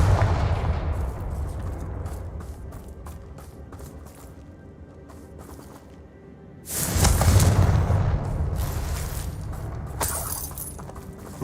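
Blasting-spell explosions in the Hogwarts Legacy video game, aimed at a worn-down bridge: a rumbling bed of game sound, then a loud broadband burst around the middle followed by more crackling impacts, with no talk.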